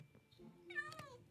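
A tamed cat in the Minecraft video game lets out a single drawn-out meow, clear and close, over a faint low background hum.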